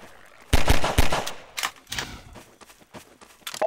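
Pistol fire in Half-Life 2: a handful of sharp, loud shots at irregular intervals, the first pair close together, then scattered cracks and clatter, with no talking.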